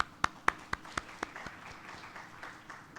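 A small audience at a medical lecture on microbiome studies claps for a memorandum signing, with a few sharp, evenly spaced claps from nearby hands first and then a softer scattered patter that fades.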